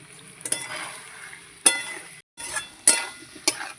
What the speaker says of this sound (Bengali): এবার এখানে ভেজে রাখা চিংড়ি মাছটা দিয়ে দেব দিয়ে এবার আমি নাড়বো